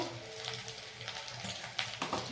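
Ginger and green chili fry in a pan with a soft, steady sizzle, close by, over stirring scrapes and a couple of slightly louder crackles near the end.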